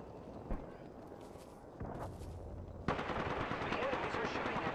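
Enemy gunfire in the video game Apex Legends: sharp bursts of shots crack out at a moderate distance, then a denser, louder barrage sets in and keeps going steadily over a noisy game background.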